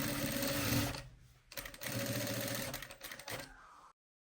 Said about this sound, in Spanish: Y ahí es donde estamos pasando el pespunte